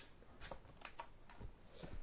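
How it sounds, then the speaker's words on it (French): Oracle cards are handled and shuffled, a few soft papery riffles and slides, faint and close, scattered across two seconds. "je prends mes petits oracles"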